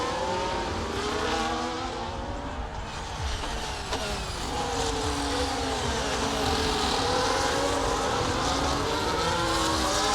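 Formula 1 race cars in the video game EA Sports F1 24 at the Spanish Grand Prix in Barcelona, layered whining engines rising and falling as several cars rev and pass, loud and continuous with no voices.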